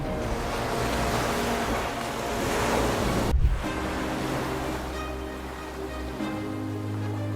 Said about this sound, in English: channeling their strength to create massive waves that crash against the ice